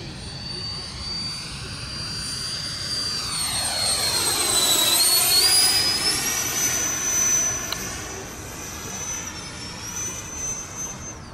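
A 105mm RC model L39 jet flies a pass, its turbine whine steady and loud with a rising and falling pitch sweep as it passes close by, no talk.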